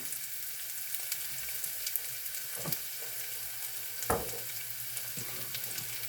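Chopped onion sizzles steadily in a pan over low heat while a utensil scrapes and stirs now and then, the crackle constant and fairly quiet with no voices.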